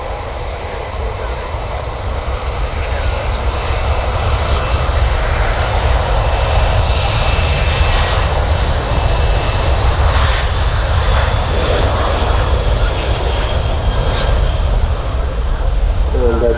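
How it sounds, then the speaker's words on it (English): Jet airliners, an Emirates 777 and a Ryanair 737-800, taxi at Manchester Airport, making a loud steady engine roar and whine that swells slightly over the span, with a voice talking faintly underneath. "you've got the Emirates 777 and the Ryanair 737-800 just taxiing around each other there"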